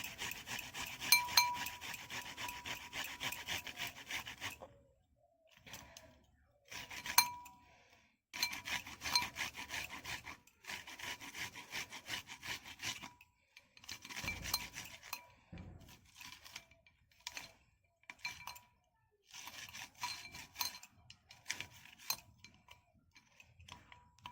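Onions are grated into a bowl by hand, making repeated bursts of rasping, scraping strokes at close range, broken by short pauses between grating runs.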